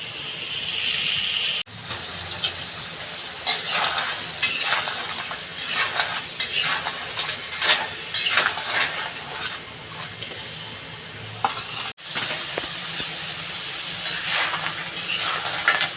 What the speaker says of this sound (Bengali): কাঁকড়াটা আমার এখনও ভাজা হয়নি